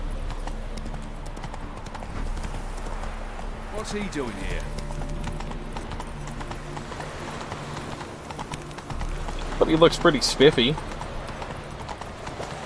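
A horse in The Witcher 3 video game trots with steady clip-clop hooves, then picks up into a louder, quicker run near the end, while someone talks over it.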